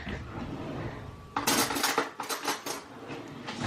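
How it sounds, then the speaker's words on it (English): Spoon scraping and clinking against a bowl while dry ingredients are stirred together, a quick run of bright close clatter after a quiet start, no talking. "I just get a spoon and I mix it all together whilst it's dry."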